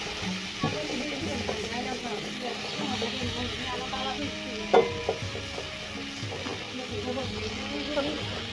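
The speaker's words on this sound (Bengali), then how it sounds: "আর দিকে বসিয়ে দেবো শাক ভাজাটা" Leafy saag greens frying in a pan give a continuous sizzle under scraping and clinking from stirring, with a sharp knock midway, while a voice is heard faintly in the background.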